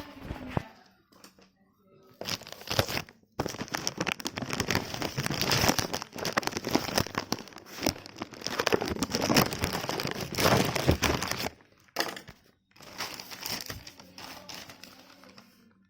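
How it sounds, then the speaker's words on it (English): Zebronics ZEB-KM2100 multimedia USB keyboard being unboxed, its packaging crinkling and rustling in dense close bursts, quiet pauses between handling. "You can unbox this."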